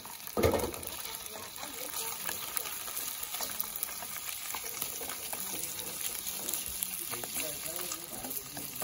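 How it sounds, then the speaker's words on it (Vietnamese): Fish frying in hot oil in a home kitchen, a continuous even hiss and crackle throughout, opening with a brief louder burst as it starts. "Rồi bây giờ mình sẽ chiên nha."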